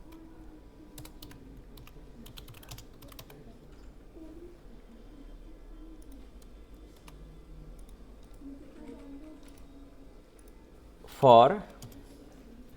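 Typing on a computer keyboard during a Notepad data entry lesson, with rapid, light key clicks running steadily under someone talking, then one louder burst near the end.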